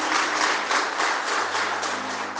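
A church congregation claps together during a French-language sermon, a steady, fairly loud patter of many hands lasting a couple of seconds without pause.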